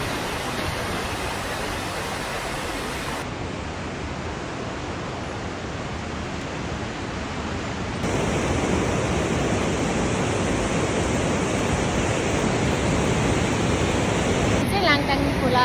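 Langtang river in Nepal's Langtang valley, a steady broadband roar of rushing mountain water, loud and continuous, growing fuller partway through with no voices.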